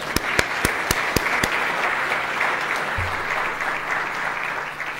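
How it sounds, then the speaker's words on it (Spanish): An audience at a conference breaks into applause, starting with a few distinct, sharp claps that quickly merge into steady, dense clapping that carries on throughout. "Aplausos para ellos."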